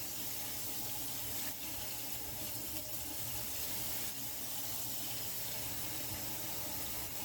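Water from a tap runs steadily into a steam canner being filled around Roma tomatoes for spicy salsa, a continuous close rushing hiss with no talk.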